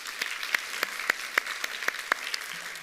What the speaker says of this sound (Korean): 우리 감사의 박수 한 번 더